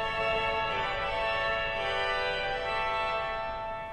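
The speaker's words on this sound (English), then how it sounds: "And then a clarion as well." At Romsey Abbey, the pipe organ's clarion reed stop holds a single bright, brassy chord, steady and loud for four seconds with no other sound.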